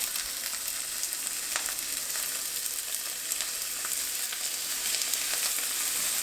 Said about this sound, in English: you want to have the skin down, and you're just gonna lay that baby in that smoking hot pan